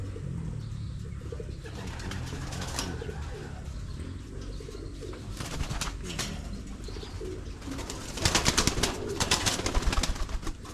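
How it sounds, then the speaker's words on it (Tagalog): Racing pigeons at a loft give soft cooing and chirps over a steady background, with a few sharp flutters and clicks growing busier toward the end. "Ay, pigeon. The eye pigeon."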